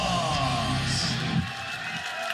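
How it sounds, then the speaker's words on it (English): A crowd at the Koper 2024 lead climbing finals applauds and cheers as the medal-winning climbers are escorted out, a steady wash of distant clapping and voices that swells slightly near the middle. "Please escort the athletes with a big applause."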